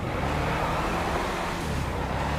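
Fathom FR36 drift car in GTA Online, a dense, steady engine roar with road noise during a drift, continuous and close with no talking.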